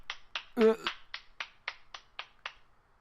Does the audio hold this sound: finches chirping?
no